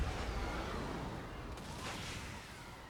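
Distant artillery booms roll through a dense battle in the Total War: Warhammer video game, a continuous rumbling wash of gunfire with no clear separate shots, and no voices.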